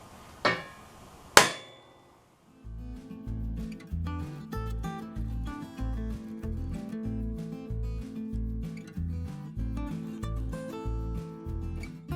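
Two sharp, loud hammer blows drive a punch through a cheap aftermarket eBay door on a Polaris RZR. They ring out close and alone, followed by steady rhythmic background music.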